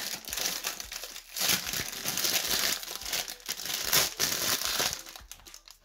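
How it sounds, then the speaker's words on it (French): Plastic packaging around a ball crinkled and pulled open, with dense, close rustling and crackling in uneven bursts, fairly loud and alone. "on va la déballer et je vais vous la montrer rapidement"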